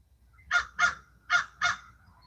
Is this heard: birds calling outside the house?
yes